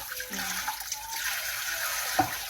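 Food being washed under running water from a tap during outdoor cooking of beef bulalo, a steady hiss of flowing water with light splashing, close and moderately loud throughout.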